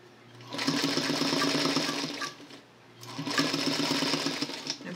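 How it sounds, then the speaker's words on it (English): A sewing machine stitches a raised seam on a convertible collar, running in two steady whirring bursts with a brief slowdown between them, close and fairly quiet, with no voices. "the left presser foot is running along the crack so that I get the raised stitch in there"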